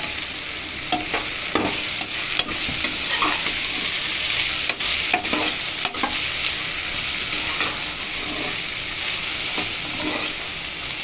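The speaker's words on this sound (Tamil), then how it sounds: "வெங்காயம், பச்சை மிளகா எல்லாமே ஒரு பாதி அளவுக்கு வதங்கிருச்சு" Onions and green chillies sauté in a pan for tomato rice, with a continuous hissing sizzle broken by repeated scrapes and taps of a stirring spoon, close and steady with no talk.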